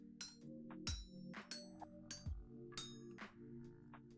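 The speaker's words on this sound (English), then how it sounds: "And hammer out the knife blade shape" Metal hammering in Vintage Story, shaping a knife blade on an anvil: several sharp, ringing clanks at irregular intervals, fairly close, with no talking.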